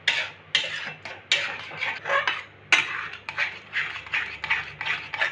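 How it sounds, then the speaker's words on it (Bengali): A metal spoon stirs and scrapes thick malai laddu mixture in a kadai off the heat, giving repeated sharp scraping and clinking strokes in an uneven rhythm, close and clear, with no talking. "এইভাবে আমি নাড়াতে থাকবো খানিকক্ষণ।"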